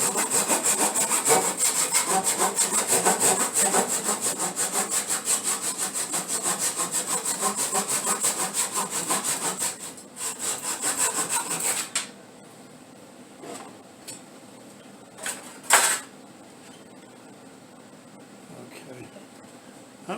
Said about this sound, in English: So I got my saw here and I'll just cut it off.